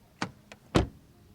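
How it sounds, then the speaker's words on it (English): A Mercedes-AMG C43 car door shuts with a light click, then a solid, muffled thud a moment later, close by and with nothing else around it. "Door closing sound."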